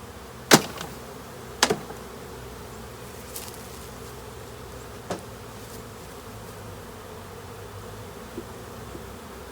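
A steady low buzz of honey bees from a hive behind a dryer fills the background, with a few sharp clicks and knocks scattered through it as bees are brushed off frames.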